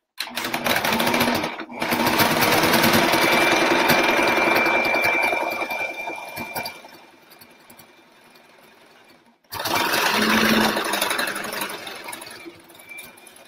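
A sewing machine runs in long steady bursts while chain stitching oven mitts, with a brief stop before the first run and a longer pause near the end before it starts again loudly.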